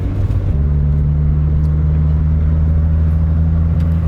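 A manual five-speed Mitsubishi DSM or Evo pulls away from a stop, a loud steady low engine drone heard from inside the car, with no voices over it.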